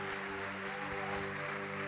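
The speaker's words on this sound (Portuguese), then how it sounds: "Vamos aplaudir mais ao nome de Jesus" A church congregation claps in a dense, steady wash, with sustained musical tones running underneath throughout the short burst.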